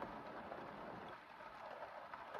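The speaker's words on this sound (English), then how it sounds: "it's raining a lot harder now" Heavy rain coming down outdoors during a Pennsylvania flintlock muzzleloader hunt, a faint, steady wash of patter with no voices.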